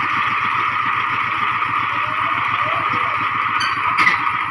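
A mini tractor's engine runs in a Thai village with a steady, close, rapid low chugging throughout, and faint talk can be heard over it.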